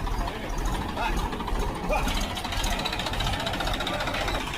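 A tractor engine rigged with a homemade loading setup for moving a crop from one vehicle into a trolley runs steadily and close, a continuous rumbling drone with a knocking edge throughout.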